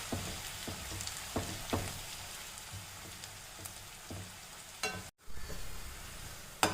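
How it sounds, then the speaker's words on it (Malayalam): Onions fry in hot oil on a high flame for chicken biryani, a dense, even sizzle with scattered crackles and occasional scraping of the ladle, close by and without talk. "വറുത്തെടുക്കാം."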